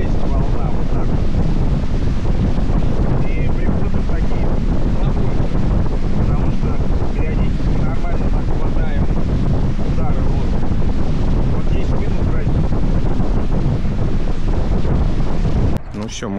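Strong wind buffeting the microphone over the rush and slap of waves against a boat, steady and loud throughout, with a brief change at the very end.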